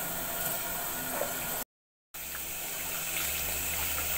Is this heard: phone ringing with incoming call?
no